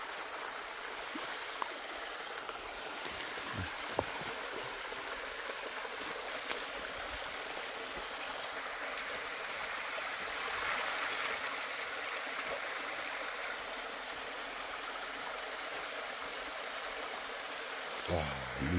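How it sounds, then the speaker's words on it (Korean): Water from a mountain spring stream trickles and gurgles continuously at a soft, even level outdoors, a steady flowing wash with a few faint knocks and no talk. "졸졸졸 흐르는 물소리 너무 좋아요"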